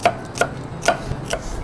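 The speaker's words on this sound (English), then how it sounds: "So, I'll just cut our onion." An onion being cut with a knife on a board, four crisp chopping knocks spaced about half a second apart, close and clear with no talk.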